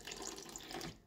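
Water runs from a tap into a bowl of sourdough bread dough, a soft continuous splashing trickle, fairly faint and alone.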